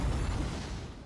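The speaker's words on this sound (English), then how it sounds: "An intense explosion shakes the air, and the closed entry door." A loud, dense explosion in a visual novel video game, a single sustained roaring blast that fills the clip and slowly tapers off.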